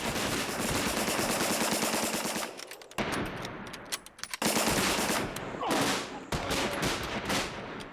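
Sustained bursts of rapid gunfire, loud and dense, briefly breaking off partway through before resuming in heavy volleys, in a World War I setting.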